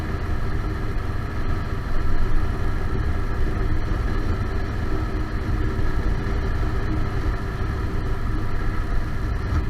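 Yamaha Stryker motorcycle cruising along, a steady close engine rumble with wind noise throughout and no talk.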